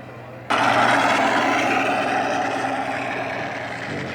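Engine of a 1:3 scale World Models Super Cub model airplane with a 141-inch wingspan, a loud steady drone that kicks in abruptly after a quiet start and holds at a constant pitch, fading slightly toward the end.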